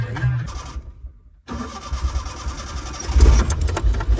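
A vehicle engine on a village harvest job cranks, then cuts out briefly. It catches again and runs on as a steady close rumble, with a rise in revs near the end.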